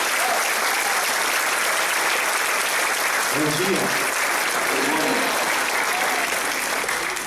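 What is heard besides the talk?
audience applause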